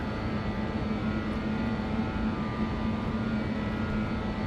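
BAe 146 jet engines held at takeoff thrust during climb-out in the X-Plane 11 flight simulator, a steady, loud, unbroken roar with a constant tonal hum and no voices.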